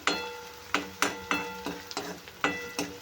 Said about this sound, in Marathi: कांदा आपल्याला मस्त गोल्डन होईपर्यंत फ्राय करून घ्यायचा आहे